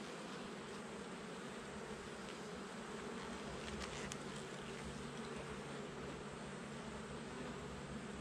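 Honey bees buzz in a steady, close drone as a hive is opened for inspection, a continuous swarm hum with no talking.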